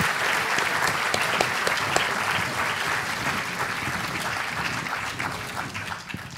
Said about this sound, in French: On peut le applaudir encore une fois